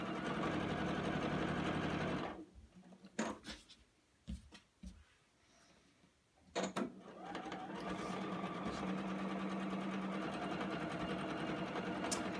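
Sewing machine chain piecing fabric for a quilt block, a fast steady whirring stitch that stops briefly for a few clicks and handling noises, then resumes running continuously.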